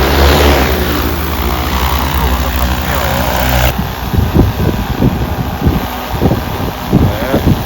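A 30-liter agricultural spraying drone starts and lifts off, its motors building to a steady whir, then gusty buffeting rotor wash takes over as a voice speaks briefly.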